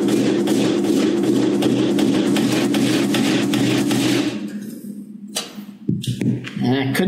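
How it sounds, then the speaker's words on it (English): A hammer drives a nail to make a small guide dent in a metal oven for a drill bit, heard as rapid, steady close tapping for several seconds, then a few separate knocks as a voice speaks. "I'm going to take my nail and I'm going to try to make a little dent in the oven"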